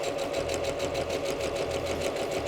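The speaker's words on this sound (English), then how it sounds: "we put right side with right side, and then we just sew along the top." Close, steady whir of a sewing machine stitching the lining seam along the top of a dress, with an even rapid needle rhythm and no pauses.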